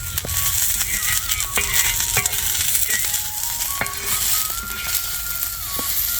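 Peanuts and chillies roasting in a pan for chutney, a steady close sizzle and frying hiss with repeated scraping clicks of stirring throughout.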